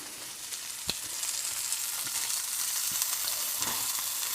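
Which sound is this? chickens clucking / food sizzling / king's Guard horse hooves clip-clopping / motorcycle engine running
food sizzling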